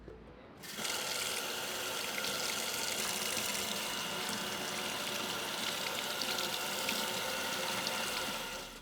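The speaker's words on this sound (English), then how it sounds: "So I'm gonna start off with washing the veggies." After a brief quiet start, a kitchen tap runs as vegetables are washed. The water gives a steady, full, close rush that holds evenly until the end.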